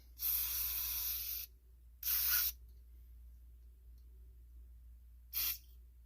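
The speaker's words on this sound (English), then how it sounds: "Now we're going to spray these holes." Three sharp bursts of aerosol cleaner hiss close by into the holes of a Honda GT 31 four-stroke carburetor, two long ones then a short one, separated by near silence.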